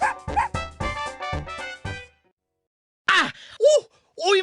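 Cartoon dog barking in a series of short, sharp yaps, then after a pause a few lower growling, whining vocalizations, close and fairly loud with no talk.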